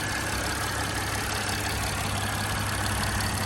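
A Mercedes ML 320 diesel engine idles steadily with the hood open, a constant low rumble with mechanical clatter that holds even throughout, close and fairly loud, with no talking.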